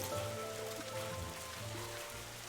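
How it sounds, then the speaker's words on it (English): Steady, dense rain falling in the video game Angeldust: an even wash of patter across the whole stretch, fairly quiet and continuous, with no voices. "Oh, more rain, more rain."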